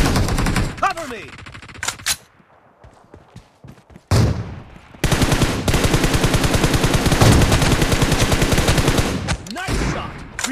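Automatic gunfire in the shooter PUBG during a team deathmatch, with rapid bursts early, a brief lull, then a loud sustained stream of evenly spaced shots close by, ending in a few scattered bursts.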